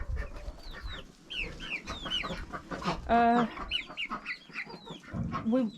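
Small bantam chickens in a Bulgarian homestead barnyard, clucking and chattering continuously up close, with a louder drawn-out call partway through and other bird calls mixed in.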